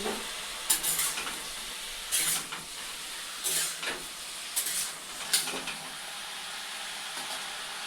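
Bottle gourd simmering in a covered pot is uncovered, letting out soft bursts of steamy hiss that come in several separate puffs over a quiet background, with no voices.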